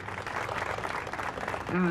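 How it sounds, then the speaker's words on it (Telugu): Dense crowd clapping fills the room steadily, then a voice starts speaking as the applause ends. "చప్పట్లతో గట్టిగా చప్పట్లతో తెలియజేయాలి"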